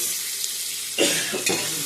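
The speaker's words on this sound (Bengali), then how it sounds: "পেঁয়াজটা হালকা ভাজা হয়ে গেছে" Chopped onion, ginger, garlic, tomato and green chili frying in a pan for mutton leg stew, a steady sizzle with two brief louder bursts as ingredients hit the oil or are stirred, no talking.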